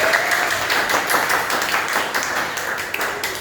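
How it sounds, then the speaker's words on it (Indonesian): A group applauds Rizky after a talk during an emotion-management session, loud close clapping from many hands running continuously for a few seconds with only slight fading. "Tepuk tangan buat Rizky."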